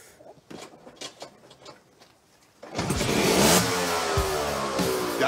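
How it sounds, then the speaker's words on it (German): A car engine starts and revs hard as the driver gives gas, a loud sustained roar rising after a few seconds of scattered clunks and rattles, close by and without talk. "Der hat doch Gas gegeben."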